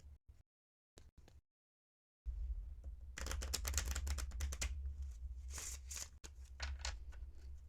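Close, quiet riffling and snapping of small poker-size Lenormand cards being shuffled in several quick bursts, with a brief low rumble of handling between.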